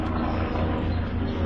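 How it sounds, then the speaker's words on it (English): A helicopter flies overhead outdoors in a garden near sundown, a steady low rotor drone that fills the whole stretch with no pauses. "don't mind the helicopter"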